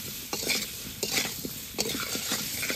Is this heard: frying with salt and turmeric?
yes